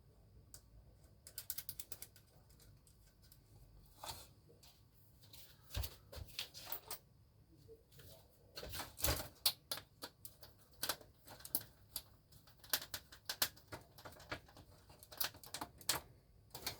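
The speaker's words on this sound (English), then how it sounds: "I'll put a screw in it." A screw being driven into a scratch-built model truck chassis, heard as close, quiet ratcheting clicks in irregular bursts that grow busier toward the end, with no talk.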